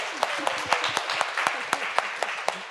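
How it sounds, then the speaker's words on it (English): An audience at a health and nature event claps for a university professor, soft continuous applause with a few sharper individual claps popping out in a loose rhythm, while faint talk runs underneath. "Let's give her a round of applause as well."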